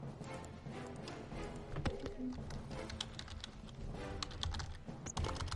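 Rapid clicking keystrokes on a computer keyboard, close and fairly quiet, tapping out in quick irregular bursts with a faint background hum.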